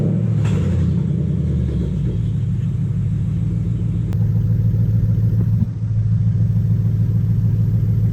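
A Toyota Hilux with a swapped 3UZ V8 engine idles steadily up close, a loud continuous low rumble with a brief dip partway through, and no voices.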